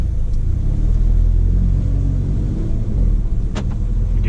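A car with a tuned DSG gearbox pulls away from a stop, its engine rumbling loud and close as it accelerates, with a brief higher rise near the end and no talking.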